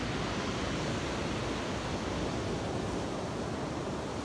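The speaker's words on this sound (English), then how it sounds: "Look at those waves just rushing." Ocean waves rushing onto the shore in the early morning, a dense, continuous roar of surf that stays close and loud throughout with no voices.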